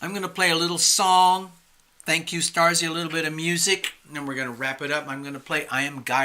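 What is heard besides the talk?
No everyday noises stand out.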